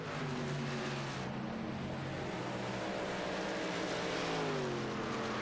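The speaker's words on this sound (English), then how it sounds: "You can audibly hear the difference in Henderson's truck" Race truck engine droning steadily during a Hammer Down Truck Series race at the Bluegrass 150, several engines blending into a loud continuous roar with rising and falling pitch as trucks pass.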